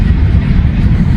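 A CSX freight train rolling past in Walton, Kentucky, heard as a loud, steady low rumble of wheels and cars with no break or gaps.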